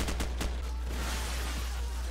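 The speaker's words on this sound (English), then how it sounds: "Well, I heard a gunshot." Gunfire in Call of Duty: Modern Warfare, a burst of sharp shots in the opening half second, then a steady loud wash of battle noise and low rumble.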